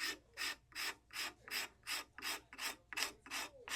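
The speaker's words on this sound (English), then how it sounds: "another advantage of the scraper over the sandpaper is this makes a lot of dust" A hand scraper works a carved wooden spoon in about nine even, rhythmic rasping strokes, each a crisp, close scrape with brief pauses between, and no talking.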